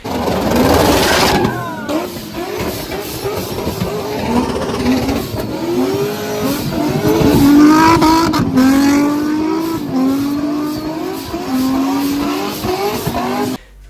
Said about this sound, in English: I'll throw out some audio clips right now of what Pro Chargers sound like in the real world